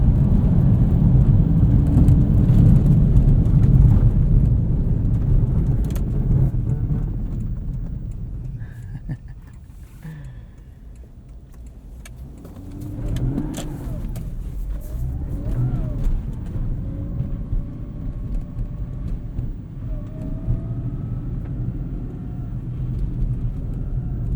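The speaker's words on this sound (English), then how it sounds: "just want to keep driving this IS" A 2003 Lexus IS 300 with a five-speed manual drives on Blizzak WS-90 winter tires, its engine pulling loudly at first, easing off around the middle, then climbing again through rising revs with road and tire noise underneath.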